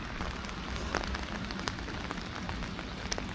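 Heavy rain pouring in a steady, dense hiss with scattered sharper drop impacts on surfaces, fairly close and continuous, no talk over it.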